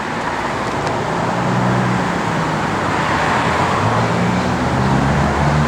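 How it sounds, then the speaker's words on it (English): A 1972 Dodge Challenger with Flowmaster dual exhaust, running as a steady loud low engine rumble mixed with roadway noise and holding constant throughout, with no voices. "It's got good sounding Flowmaster dual exhaust."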